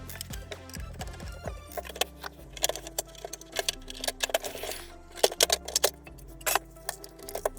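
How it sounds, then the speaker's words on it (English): Screws are unscrewed from the casing of a BBK DVP155SI DVD player, producing close, irregular metallic clicks, ticks and small rattles of screwdriver and parts against a quiet background. "There are 3 screws holding it in at the back. Let's unscrew them."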